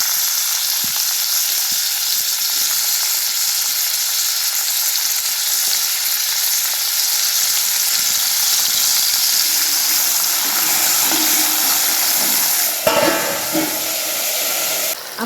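Finely chopped tomato hits hot oil already holding cumin, mustard seeds and roasted garlic, giving a loud, steady sizzle and hiss that flares up with a stir near the end; no one speaks.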